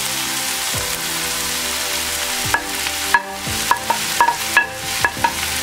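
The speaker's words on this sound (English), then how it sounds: "Saute this on high flame." Carrot and mushrooms sauté on high flame for lasagna, a loud steady sizzle with a series of sharp scraping stirs and clacks from the spoon in the second half.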